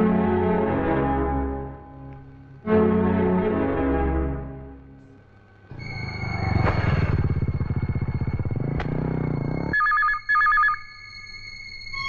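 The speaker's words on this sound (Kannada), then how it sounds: "ಫೋನ್ ತಗೊಳ್ಳಿ." A telephone rings in a steady electronic ring pattern, loud and close, with bursts repeating across the stretch and no one talking over it.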